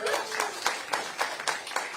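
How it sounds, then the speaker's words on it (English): Scattered clapping from a town hall audience, a few hands breaking out in uneven bursts at moderate distance with no steady ovation building. "some of you are clapping"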